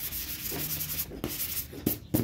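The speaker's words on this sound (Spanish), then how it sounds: "Una vez terminando de lijar" Sandpaper rubbed by hand over wooden mouldings before varnishing, soft scratchy strokes in short irregular passes, quiet and close with no talking.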